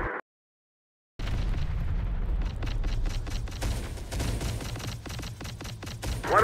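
APCs blow up under attack in Terminator: Dark Fate - Defiance, Oklahoma City. A second of silence gives way to a loud, continuous barrage of booming blasts and rapid gunfire cracks that swells toward the end.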